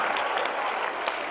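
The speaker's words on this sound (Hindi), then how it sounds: "प्रसिद्धि के लिए जोरदार तालियां" A school audience at a myopia awareness program in Kota gives a student a short burst of dense, even clapping, loud and close throughout.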